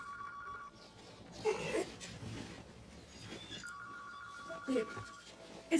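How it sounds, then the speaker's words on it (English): A telephone rings in a home kitchen, two bursts of an electronic ring separated by a pause, faint and fairly distant, with people talking and small household noises around it. "Stop that phone from ringing."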